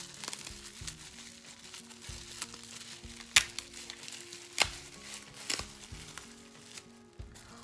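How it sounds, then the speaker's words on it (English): A mailed gift being unwrapped from bubble wrap, with steady plastic crinkling and rustling close up and a few sharp pops and snaps scattered through. "Oh, it's like wrapped up in bubble wrap."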